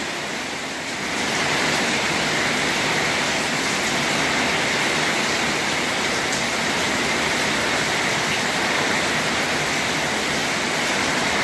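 Heavy rain falls without a break after a day and a half of downpour in Punjab, a dense, loud, even roar of water that swells in within the first second and then holds steady with no voices.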